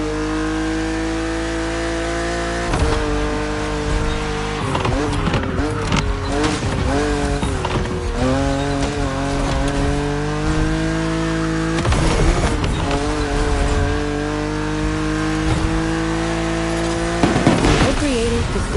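A car cruises open roads in The Crew Motorfest on PS5, its engine droning steadily and rising and falling through revs, with brief tire squeals and bursts of acceleration.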